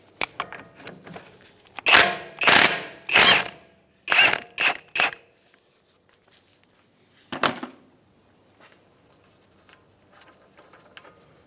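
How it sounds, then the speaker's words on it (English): A 35 mm socket on a ratchet or impact tool works loose a broken, staked axle nut on a Mazda CX-9, giving several loud bursts of rapid mechanical clatter, then a later short burst and quiet clicks. "So we're going to try and take this off as is with a 35 millimeter socket."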